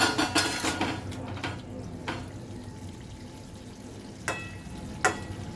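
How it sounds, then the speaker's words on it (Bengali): A cooking-pot lid lifts off simmering bottle gourd with a metallic clatter at the start, followed by quiet bubbling and two sharper clinks near the end, with no talking. "এবারে ঢাকাটা খুলে দেখি লাউটা কেমন সেদ্ধ হয়েছে।"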